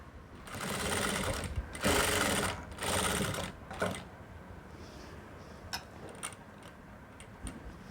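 An electric sewing machine stitches a churidar neckline in loud, sustained whirring bursts, then slows into light scattered mechanical ticks and clicks, with no voices.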